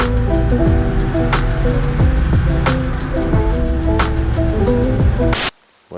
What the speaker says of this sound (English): We're in the woods. It's raining loads.